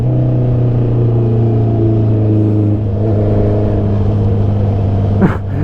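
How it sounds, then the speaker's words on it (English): A 2019 Honda CB650R motorcycle engine revving as RPM climbs, a steady mid-pitched inline-four drone with rising harmonics heard from the rider's position, close and loud, with a brief wind gust near the end. "you can hear the RPM climbing"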